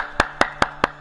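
Hands clap five times in a steady, evenly spaced rhythm, each a sharp close smack over a quiet background hum.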